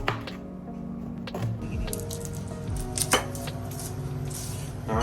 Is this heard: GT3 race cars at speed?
no